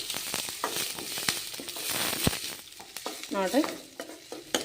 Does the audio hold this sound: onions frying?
yes